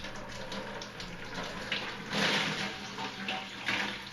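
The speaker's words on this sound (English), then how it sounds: "the water will start to come out." Water pours from a loosened water filter housing into a bucket below, a steady close splashing trickle that swells into a heavier gush midway and again near the end, with no talk.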